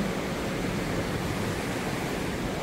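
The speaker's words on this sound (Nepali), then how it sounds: "पानी चाहिँ डेन्जरै बढेछ क्या" Heavy rain pours steadily outside at a hillside resort in Kushma amid fog, a dense, even hiss that holds at constant loudness throughout with no voices.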